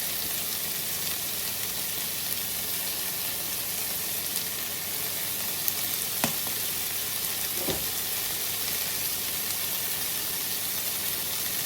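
Garlic sizzles and fries in a hot pan while a meal is cooked for a baby, a steady close hiss with a couple of faint clicks of stirring.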